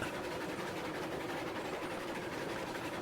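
A Shay geared steam locomotive runs in the video game Railroads Online, giving a continuous, even chugging and mechanical rumble at moderate volume with no pauses or talk.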